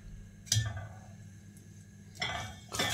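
A spoon clinks against a metal pot while butter and olive oil are stirred over heat in a home kitchen, a few sharp scraping taps spaced out over a low hiss of background noise.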